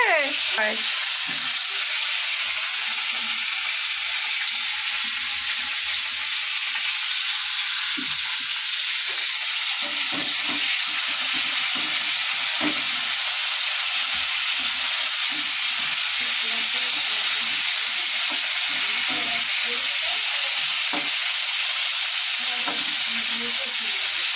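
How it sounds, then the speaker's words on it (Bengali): Cauliflower florets soaked in turmeric water fry in hot oil in a pan, giving a loud, continuous sizzle and hiss close by with occasional faint stirring knocks and no talk. "এবার হলুদ জলে ভিজিয়ে রাখা ফুলকপিগুলো একে একে ভেজে নেব"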